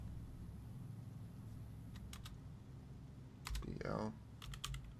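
Faint, sparse clicks of keys being pressed on a computer keyboard over a low hum, with a brief murmur of speech in the middle.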